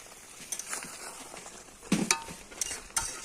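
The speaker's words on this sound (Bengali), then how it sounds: "এই যে মাটন রান্না করতেছে আমাদের চয়নদা।" Mutton is stirred in a cooking pot with soft sizzling under the stirring, and a few light metallic scrapes and clinks of the utensil against the pot cut sharply through the background.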